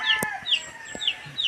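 Young chicks belonging to Tatay Roman give several high, falling peeps in a steady repeating pattern, close by, with a few soft thumps between them.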